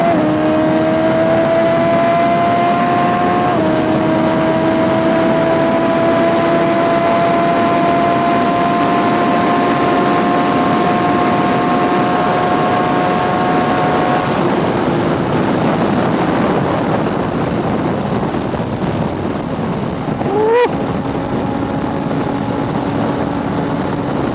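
A Suzuki GSX-S750Z motorcycle at high speed on a windy Mexican freeway, its engine droning loudly and steadily beneath heavy wind buffeting, the pitch stepping up through quickshifted gear changes, with a brief sharp rev spike near the end.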